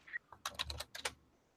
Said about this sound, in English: Typing is a thing.